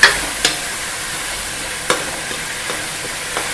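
Onions and green chillies fry in a pan toward light brown for pumpkin kofta, a constant hissing sizzle with a few sharp utensil taps scattered through, no voices.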